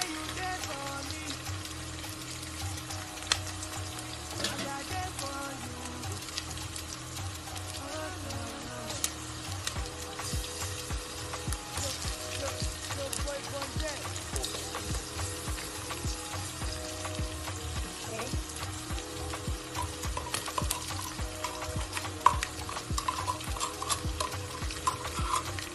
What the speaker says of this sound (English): I'm going to stir it all together.